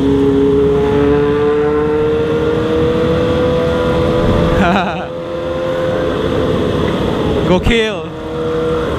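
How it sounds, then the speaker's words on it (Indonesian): A large group of motorcycles, including Harley police bikes, rides together on a Sunday morning run, their engines droning steadily and close with passing revs and bursts, while someone talks over the noise. "Anjir, gue suka banget sih kalau ngeliat kayak rombongan motor kece gini."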